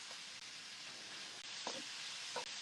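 Sofrito and ground meat being stirred in a hot pan for Cuban picadillo, giving a steady close sizzle with a couple of brief scraping strokes of the spoon and no talk.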